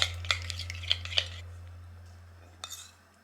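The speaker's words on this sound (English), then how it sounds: "Just gonna stir that up real good" A spoon stirs an oatmeal granola mixture in a bowl. Several sharp clinks and scrapes of utensil against the dish come close together, then fade to quiet before a last pair of scrapes near the end.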